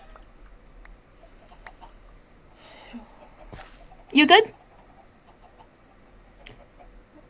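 Chickens in a Minecraft-style survival multiplayer game give one short burst of clucking midway, close and fairly loud, with some quieter game noises and a brief voice around it.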